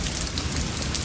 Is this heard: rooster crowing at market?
no